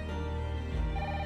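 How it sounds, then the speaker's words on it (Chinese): A telephone rings briefly and quietly indoors, a steady electronic tone during a dramatic scene. "不好意思，我接个电话。"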